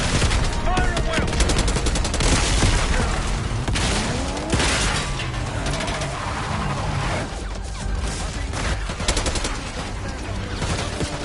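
Dense, continuous gunfire from soldiers in a Call of Duty Black Ops 6 battle at a palace gate, rapid automatic bursts layered with booms and crashes, loud and sustained throughout with no pauses.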